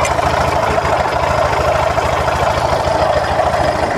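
A Bajaj Discover motorcycle engine idles steadily after starting, a continuous close, loud mid-low rumble with an even throb and no speech over it.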